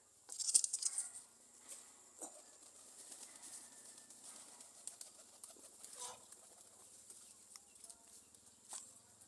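Pigeons in a nest give soft, faint cooing and small fluttering and shuffling sounds, with a brief burst of wing movement near the start and quiet rustles continuing afterwards.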